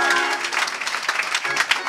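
A church congregation claps for the Lord during a Sunday service installing a new pastor, with dense, fast, uneven applause throughout and voices mixed into it.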